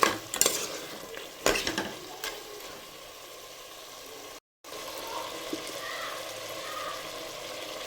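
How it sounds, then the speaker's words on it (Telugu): Telangana-style mutton curry stirred in a pot after salt goes in: a couple of sharp spoon scrapes at first, then a steady close sizzle and bubbling simmer, with no talking. "సాల్ట్ వేసి ఒకసారి కలుపుకోండి"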